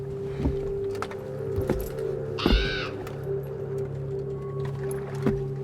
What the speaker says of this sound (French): Ah, il y a le corbeau.